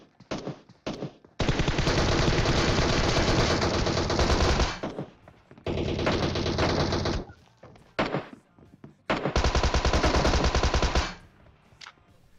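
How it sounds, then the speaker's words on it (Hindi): M4 and Tommy gun fire in the PUBG Mobile video game comes as three long, loud automatic bursts separated by short gaps, with a few scattered single shots between them, close and dry. "इतनी सारी गोली मैंने पेली उसे M4 की, उसके बाद टोमी की भी गोली पेलनी पड़ी"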